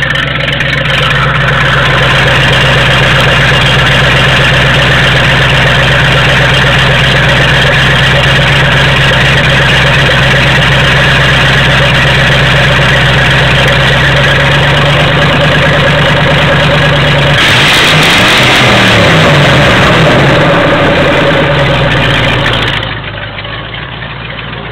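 A P71 Police Interceptor V8 in a 1994 Grand Marquis idles with the exhaust off, a loud, deep, throaty rumble close up, briefly revving higher near the end before settling.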